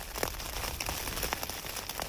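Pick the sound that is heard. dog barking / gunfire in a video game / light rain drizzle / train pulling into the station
light rain drizzle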